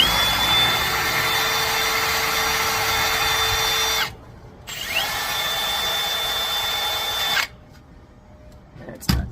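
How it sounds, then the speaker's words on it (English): A power drill fitted with a carbide bit grinds steadily through a screw, a loud continuous whine with a brief pause around four seconds, then resuming before stopping near the end. "So Carbide is what's going to drill through that screw. I'm going to try the drill first."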